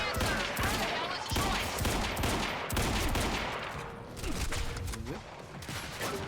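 Gunfire in Quantum Break, with dense rapid shots and overlapping bursts at high volume throughout, tailing off into scattered game effects near the end.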